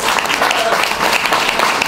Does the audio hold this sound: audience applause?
yes